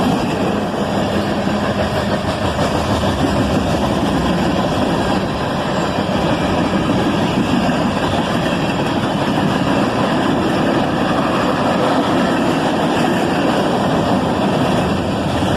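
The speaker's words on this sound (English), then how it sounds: "This train is led by an AC-44CW and an ES-44DC." A freight train led by AC44CW and ES44DC locomotives on the Toledo Subdivision gives a loud, steady, unbroken rumble of engines and rolling wheels that holds evenly for the whole stretch.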